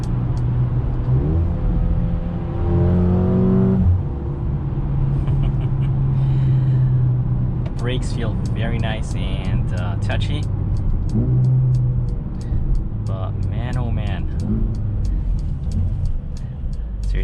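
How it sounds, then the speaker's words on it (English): A 2021 Mercedes-Benz GLA 35 SUV in Sport Plus mode, its engine and exhaust droning and rising through gears as it accelerates, heard from the cabin under continuous talking. "Mercedes-Benz did a great job with the way how this exhaust sounds."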